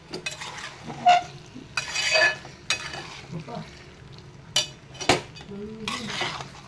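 Mandeli fish gravy stirred in a pan on a Mumbai home stove, giving a steady scrape-and-clink of a spoon against the metal with faint sizzling beneath and occasional sharper knocks, close and at moderate volume.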